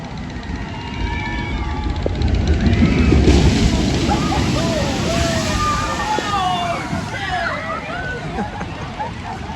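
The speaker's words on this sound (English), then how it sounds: "See this wave here." Water crashing and sloshing at a theme park water ride, a broad rushing splash that swells around the middle and stays loud, with crowd babble and scattered shouts mixed through it.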